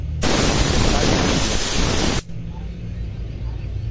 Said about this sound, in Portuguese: Um você aperta e sai só ar, você apertando um pouco mais sai a tinta